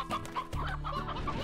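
Chickens clucking in the Slime Rancher video game, a quick run of close, loud clucks and squawks over steady low in-game background sound, with no talking.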